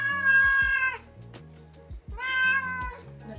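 A cat meows loudly and close up, two long drawn-out meows separated by a short pause with faint clatter in between.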